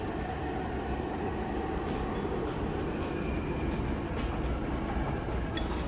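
A subway train rumbles steadily through Roosevelt Island station, with a continuous loud rolling roar and faint metallic clicks and squeals over several seconds, no talking.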